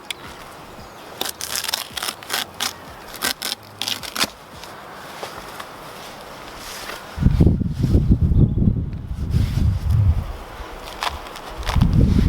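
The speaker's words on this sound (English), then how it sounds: "So now I need to cut out this material." Cutting out material to extend a no-dig allotment garden bed outdoors: a run of close crisp snips and crinkles, then heavier rustling and dragging as the material is pulled away.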